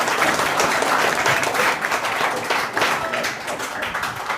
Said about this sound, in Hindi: तो ताली मार दो बच्चों लोग थोड़ा।